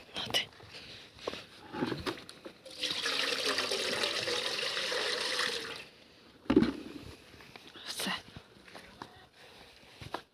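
Water poured out for ducklings runs in a steady splashing stream for about three seconds, close by, with a person talking before and after.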